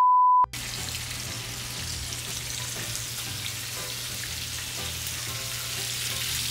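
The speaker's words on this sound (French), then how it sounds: "Ensuite, tu mettras le bacon dans l'huile. Donc, on va attendre 5 minutes que l'huile chauffe." Oil heating in a pan before bacon goes in gives a steady, fairly loud frying hiss and crackle that runs continuously after a short tone at the start, with no talking.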